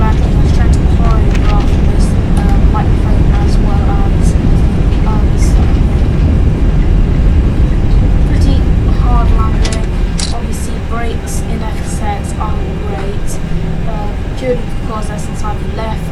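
Simulated airliner rolling out after landing in Flight Simulator X on a Manchester to Heathrow flight, reverse thrust roaring in a loud steady rumble that eases toward the end, with someone talking over it.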